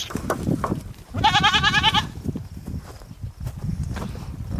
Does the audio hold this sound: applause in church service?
no